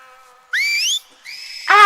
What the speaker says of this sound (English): Different whistles. Yeah, you gotta learn what the whistles mean.